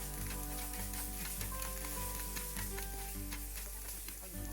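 Garlic is stirred into fries cooking over low heat in a pan, a faint, even sizzle with regular soft ticks and scrapes of stirring over a low steady hum.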